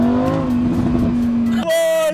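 A Lamborghini sports car engine, rated 0 to 100 in 3.9 seconds, drones loud and close with a steady low growl, then shifts abruptly to a higher, thinner tone near the end.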